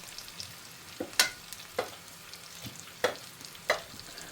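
Small stuffed bitter gourd pieces fry in a pan with a soft, steady sizzle, broken by a few sharp clinks and scrapes from stirring, close and with no speech.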